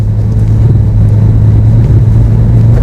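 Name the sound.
Mitsubishi EVO X engine at full throttle, electronically limited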